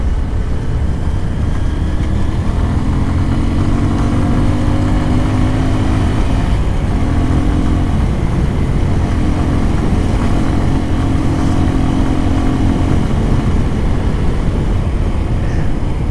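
A motorbike climbs a winding hill road near Sajek, its engine drone buried in constant loud wind roar that never lets up.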